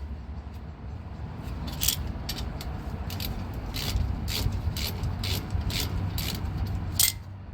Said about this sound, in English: grab your 14 socket and a ratchet and just loosen the lower bolt